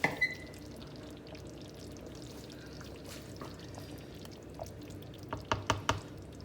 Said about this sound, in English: that was 1 cup of red oil